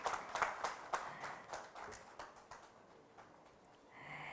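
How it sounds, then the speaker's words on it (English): Applause rises from the audience at a banking and finance conference, several louder rounds of clapping at first that thin and fade into quiet room tone, faint and somewhat distant. "A loud round of applause"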